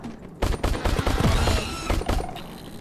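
Rapid bursts of gunfire in the VR shooter Crashland VR, loud dense volleys of shots in quick succession with explosive pops, continuous for a couple of seconds then tapering off.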